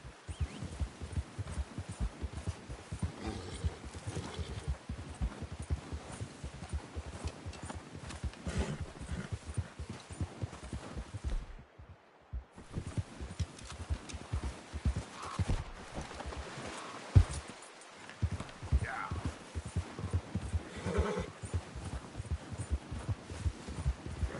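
A horse gallops in the video game Red Dead Redemption 2, its hooves beating a continuous, rhythmic clip-clop at moderate loudness for the whole stretch, with one brief pause midway and no spoken words.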